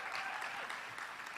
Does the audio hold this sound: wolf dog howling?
no